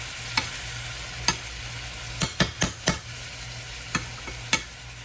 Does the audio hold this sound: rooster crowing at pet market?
no